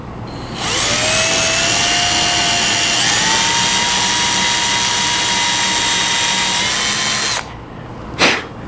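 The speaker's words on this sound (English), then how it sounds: "I'm going to take my drill." A power drill whines steadily for several seconds, its pitch rising partway through, then stops; after a pause comes one brief extra burst.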